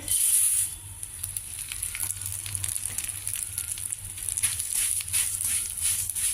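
Pearl millet flakes frying in a spoonful of oil for a multigrain tea-time snack, giving a steady hissing sizzle with faint crackles, continuous and close.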